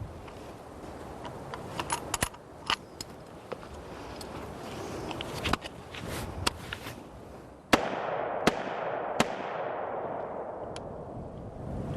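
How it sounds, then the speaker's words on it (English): Unsuppressed Mark 18 style M4 rifle firing a string of sharp, loud cracks at irregular intervals, each shot followed by a short echoing tail over a steady outdoor background. "That's the signature of a Mark 18 style M4 without a suppressor."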